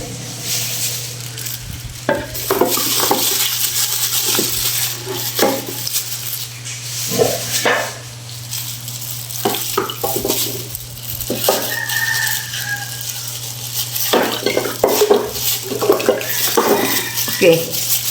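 An Indonesian clay cooking pot is set into water to soak, with repeated splashes, sloshing and hard knocks of clay against a container over a steady background hum, and a person talking now and then.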